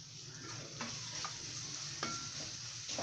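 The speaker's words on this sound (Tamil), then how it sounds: "இப்போ இது எல்லாத்தையும் நல்லா மிக்ஸ் பண்ணிவிட்டு" A spoon stirs spices, mint and coriander through a sizzling gravy in a pan for idli biryani, a constant frying hiss broken by a few light scraping strokes against the metal, no voices.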